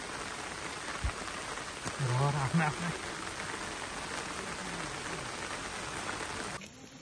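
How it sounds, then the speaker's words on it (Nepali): Heavy rain falls steadily on a forest trail during a day hike from Changunarayan to Telkot in Bhaktapur, a constant broadband hiss with people talking and calling out over it. "हाइकिङ के बिचमा दरो पानी पर्यो जंगलको बाटामा छौँ"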